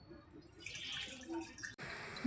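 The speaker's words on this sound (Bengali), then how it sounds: "জল দিয়ে দেবো" Water being poured into a pan on a stove before cabbage is boiled, with a short splashing, running pour that is faint and close and is cut off by a brief break near the end.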